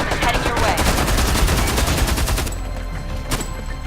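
Rapid automatic gunfire in the video game Homefront: The Revolution, loud and continuous for about two and a half seconds, then a few scattered shots against lingering noise.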